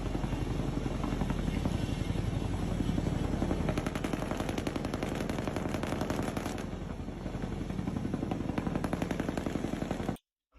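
Military helicopters thump overhead at night in Venezuela while machine guns fire in rapid, continuous bursts, a dense, fairly distant rattle that persists throughout before stopping suddenly.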